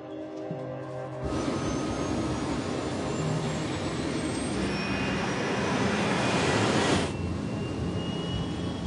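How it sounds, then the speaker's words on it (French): Concorde jet engines roar steadily as the aircraft accelerates, a loud broadband rush with a rising whine that builds and swells before easing slightly near the end, with no voices. "Les moteurs fonctionnent, la vitesse augmente."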